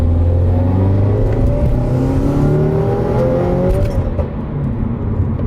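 A 2018 Subaru WRX engine revs hard as it accelerates in second gear, pitch climbing steadily, with a few sharp exhaust pops near the end. Loud and close.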